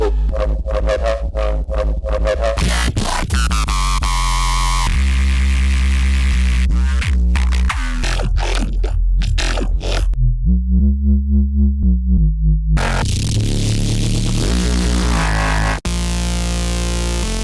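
A string of heavy, distorted drum and bass one-shot bass hits and sustained growls, loud and dense, shifting in tone from one sample to the next with no talking.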